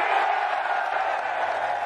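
A large golf gallery at the Ryder Cup cheers in a steady, continuous roar held at even loudness from start to end.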